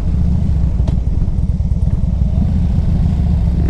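Steady, loud low rumble and clatter of a 2003 Harley-Davidson Electra Glide Classic's 1450 V-twin engine running on a test ride, with a continuous lumpy throb and no talk.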